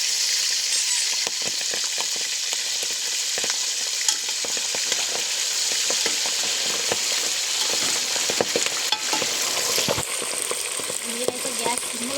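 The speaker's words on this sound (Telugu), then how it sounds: "నూనె కాగిన తర్వాత ఉడకబెట్టిన మటన్ ముక్కల్ని వేయాలి" Boiled mutton pieces fry in hot oil for a mutton pickle, giving a steady, loud sizzle throughout with occasional stirring clatter.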